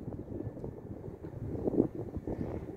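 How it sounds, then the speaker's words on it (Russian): Gusty wind during a thunderstorm in Krasnoyarsk buffets and rumbles across the microphone in low, irregular surges, with no speech. "сюда несет ветер на меня"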